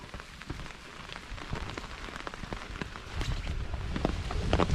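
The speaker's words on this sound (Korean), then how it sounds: "비가 오고" Heavy rain falls with wind on a mountain trail through an old azalea tunnel on Yeoninsan in Korea, a dense, steady patter of drops that grows slightly louder toward the end, with no talking.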